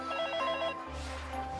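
A home telephone rings in a Smart advert, a warbling electronic trill in short pulses that then gives way to a low hum and music-like tones.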